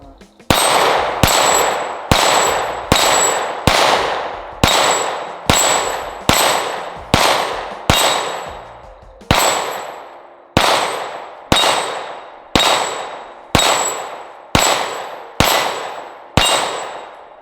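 A CZ P-10C ported pistol fires about twenty sharp, loud shots at a brisk, steady pace, with one short pause midway. Each crack rings out with a decaying echo outdoors.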